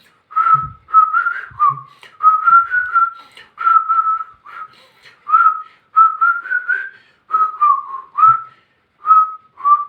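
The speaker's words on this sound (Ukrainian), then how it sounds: "А ну попробуємо посвистіти." A person whistles a lilting tune in short melodic phrases with brief pauses between them, clear and close, with no talking.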